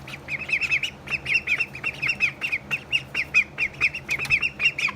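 Ducklings calling at night in a brooder: dense, continuous high peeping and squeaky chirps from many birds at once, loud and close, with no pauses.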